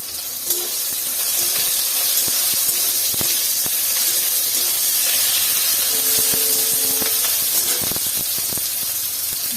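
Curry leaves crackle and hiss loudly and steadily in hot oil for a pointed gourd curry, with scattered sharp pops throughout.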